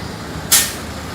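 A sudden loud burst of air-brake hiss from a truck on a snowy, frigid Manhattan street, starting sharply and fading over half a second above a steady low street rumble.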